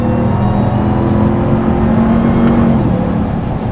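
Engine of a Dodge Ram TRX pickup truck pulls steadily under acceleration after a shift into fourth gear, a loud continuous low drone with a rising tonal whine, heard from inside the cab with no talk.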